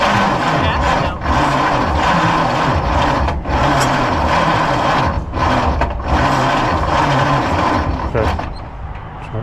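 A 1953 White WC truck engine cranks over in repeated labored bursts as it tries to start after decades idle, with brief pauses between attempts and a person speaking briefly nearby.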